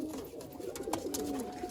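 Malwai pigeons cooing quietly nearby, a low burbling murmur over soft background noise with a few brief clicks.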